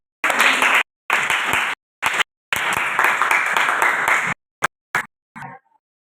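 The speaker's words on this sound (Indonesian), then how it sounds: "Tepuk tangan untuk kita semua." Bursts of classroom applause from students during a mathematics lesson, loud and close, breaking off and restarting several times before a few last scattered claps.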